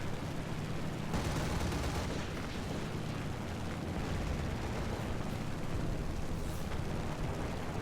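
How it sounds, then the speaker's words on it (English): Gunfire in the War Thunder video game air combat, a dense continuous burst of rapid shots and rumbling blasts that stays loud and unbroken throughout. "Stop shooting me"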